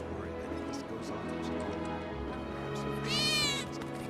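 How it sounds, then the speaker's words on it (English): A cat meows in the video game Final Fantasy VII Remake: one drawn-out, wavering meow rises clearly over a steady bed of game ambience and low background music near the end. "did you hear that just now? Yeah. I think one of Betty's cats might be nearby"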